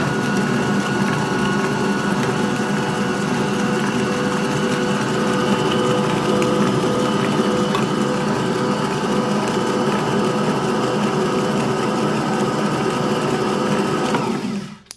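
Shortbread dough churns in an electric mixer, a steady close whirring motor hum running unbroken for about fifteen seconds before cutting off at the very end.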